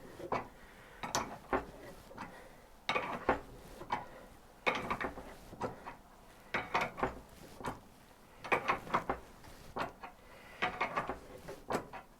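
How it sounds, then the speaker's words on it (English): Metal ratcheting and mechanical clicks from a nut being turned during a Suzuki Hayabusa motorcycle rebuild, coming in repeated bursts of clicks and scrapes with short pauses between them, close by and moderately loud. "So as we turn the nut round, that's pulling that out really nicely."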